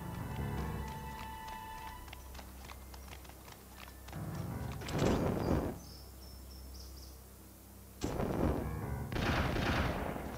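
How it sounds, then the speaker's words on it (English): Video game gunfire from Destroy All Humans!: a rattle of shots, then two loud bursts of noisy fire a few seconds apart, over a low background hum with no speech. "Somebody's shooting at me?"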